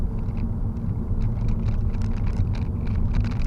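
A 2015 Honda Civic pulling away from a stop with hill start assist: a steady low engine rumble and road drone from inside the cabin, constant and fairly loud, with no voices.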